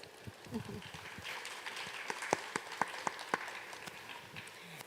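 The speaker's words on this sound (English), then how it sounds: "Give him applause." An audience at an Asian art talk event gives fairly quiet, scattered applause, with individual claps standing out as the clapping picks up and continues.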